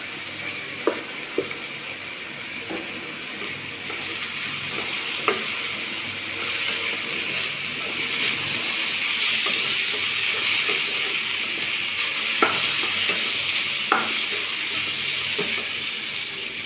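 Carrot, potato and onion sautéing in a pan make a continuous hissing sizzle, with scattered light clicks of stirring over the top and nobody speaking.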